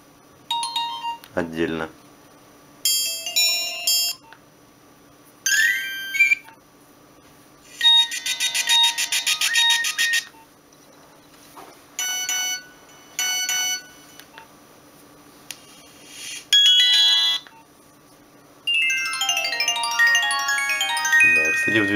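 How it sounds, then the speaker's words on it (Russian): Nokia 1202 message, reminder and alarm ringtones play one after another as short monophonic beeping melodies, each a few seconds long and separated by pauses, with the last one longer and busier; a voice speaks briefly between them. "Ну, а это рингтоны уже для сообщений, памяток и будильников"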